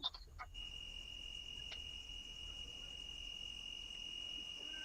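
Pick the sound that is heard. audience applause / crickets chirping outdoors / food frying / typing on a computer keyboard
crickets chirping outdoors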